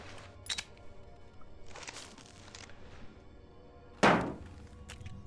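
A booby trap grenade is placed in the video game Project Reality, with a few soft clicks and taps followed by one sharp, loud thunk near the end, all close and without voices.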